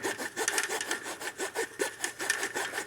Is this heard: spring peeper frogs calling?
no